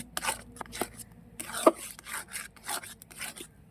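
Raw mango jelly with sugar and a pinch of salt stirred in a pan, heard as repeated soft scraping and rubbing strokes in an uneven rhythm, close and fairly quiet, with no talk.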